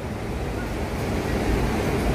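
The sea at Cox's Bazar, seen from a hotel balcony, roars as a continuous wash of breaking surf, with wind noise blending into the broad, unbroken hiss.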